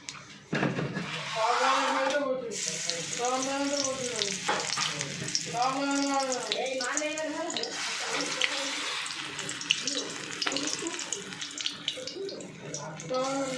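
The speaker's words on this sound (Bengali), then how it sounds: "এবার আমি এই তেলের উপরে দিয়ে দিচ্ছি তেলটা কিন্তু খুব ভালোভাবে গরম হয়ে গেছে" Brahmi leaf fritters fry in well-heated oil in a wok, giving a steady, close sizzle and crackle throughout while a voice talks over it.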